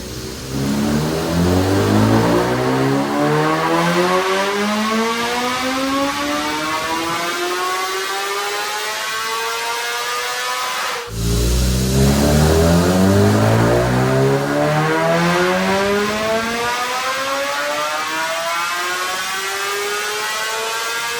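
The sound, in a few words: 2026 BMW M1000RR Stage 1 engine revving on dyno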